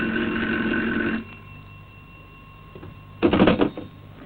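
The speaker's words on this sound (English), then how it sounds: "It began with a phone call." An old-fashioned telephone bell rings in a short burst at the start, then a second ring cuts in after a quiet pause, loud and close with no one talking.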